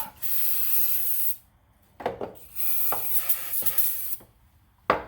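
Brick cleaner is sprayed onto a dirty Honda car battery in long, loud hissing bursts close up, each lasting about a second, separated by short pauses and faint rubbing, with no talk.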